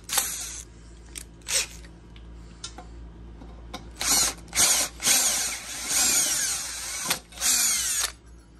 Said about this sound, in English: That's my drill.